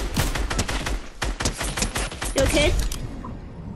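Rapid bursts of gunfire in the Fortnite video game crackle in close succession, dense and loud, with players talking over the shots.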